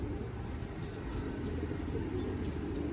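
Pigeons coo softly in a loft with kept white pigeons, a low, steady murmur of cooing under a constant background hum, fairly quiet and continuous.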